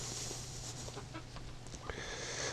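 Hens clucking softly nearby in a backyard flock, short scattered clucks and chirps over a low steady hum, faint and close.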